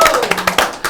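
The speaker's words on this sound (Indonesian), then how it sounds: "tapi tepuk tangan sekali" A few sharp hand claps in a podcast studio, sparse and close, mixed in with ongoing conversation.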